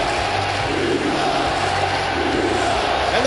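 A wrestling crowd at a live independent show in Atlanta, Georgia, roars and shouts together in a loud, steady wall of voices with no break.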